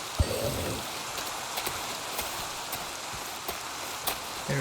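Rain falling in the Minecraft video game, a steady soft hiss of rainfall with scattered light drops tapping, quiet and even from start to finish.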